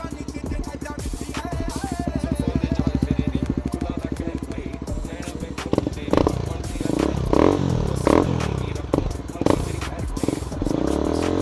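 An NS400Z motorcycle fitted with a slip-on exhaust idles close by in a rapid, even, thumping pulse, then is blipped in several sharp revs, with voices around it.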